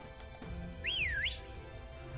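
A single short whistled tune rises and falls in pitch, heard quietly over a faint game background in Pokémon Sword/Shield while opening a temple.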